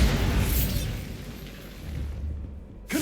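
Bombardo explosion spell cast in the video game Hogwarts Legacy: a loud booming burst that decays into a long rumble, followed by a fresh sharp pop at the very end.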